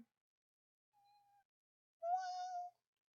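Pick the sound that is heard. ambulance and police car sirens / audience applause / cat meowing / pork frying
cat meowing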